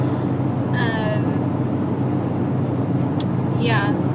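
Interior of a moving car, a steady low road rumble and engine hum throughout, with brief voice-like sounds over it.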